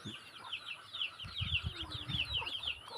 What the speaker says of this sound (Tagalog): ayan na ka-farmers, may mga sisiw tapos na silang magsikain.